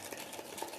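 A spoon or whisk stirs cornstarch, flour and vanilla milk for a tropézienne cream in a Tupperware bowl, making a brief, faint swishing scrape close by with no voices.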